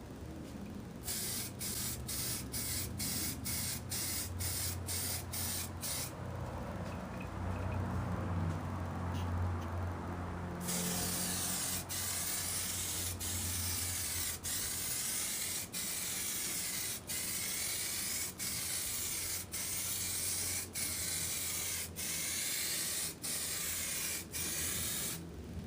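A spray can lays clear coat onto a car part in a continuous hissing spray, with brief pulses early on followed by long sustained passes, close and steady with no talking.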